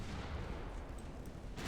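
Naval guns, including 9-inch cruiser guns, fire during a battle in the video game Ultimate Admiral Dreadnoughts: a dense, continuous roar of heavy booming gunfire with no pause.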